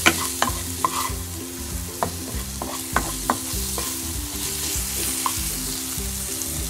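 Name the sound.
frying and stirring potato chicken filling in a pan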